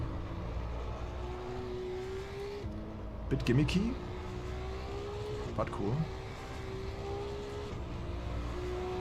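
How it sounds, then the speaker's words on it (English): A car engine in the Assetto Corsa EVO racing game drones steadily at a constant pitch, dipping briefly and swelling with two short bursts, under someone talking. "But there's some noise from the engine that is a bit weird."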